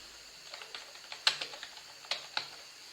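Typing on a computer keyboard: a short run of light, irregular key taps close by, a few louder strokes among them, with no voices.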